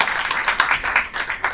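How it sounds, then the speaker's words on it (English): A panel audience claps in a short, uneven burst, with individual hand claps picked out from the overall sound and close by. "Give a round of applause for that."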